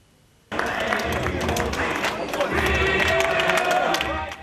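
Crowd noise after a home win for the football club Khmelnytskyi Podillia in a second-league match, starting abruptly with a loud, continuous wash of cheering, clapping and chatter and voices mixed throughout.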